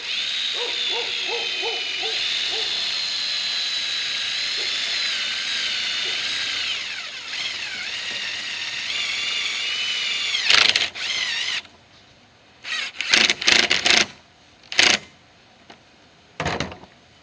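A power drill drives stainless steel screws while installing a Max Air roof fan, its motor whining and rising in pitch for several seconds, then short separate bursts of drilling with pauses between.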